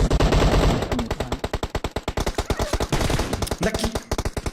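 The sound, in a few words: machine gun fire in a video game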